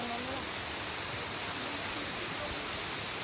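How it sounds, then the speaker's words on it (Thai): A steady, full-bodied roar of a waterfall at Phu Kradueng, Thailand, rushes on without a break, with faint voices briefly audible beneath it. "ตอนนี้ได้ยินเสียงน้ำตกเนาะนี่"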